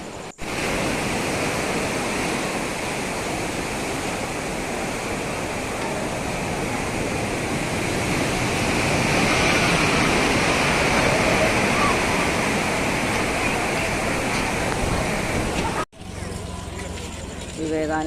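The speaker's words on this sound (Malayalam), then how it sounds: "തീരത്തെ തഴുകി പോകുന്ന ഈ തിരമാലകൾ തന്നെ നല്ലൊരു കാഴ്ചയാണ്" Sea waves washing onto the shore at Kanyakumari, a loud, steady roar of surf that rolls on without a break and cuts off abruptly near the end.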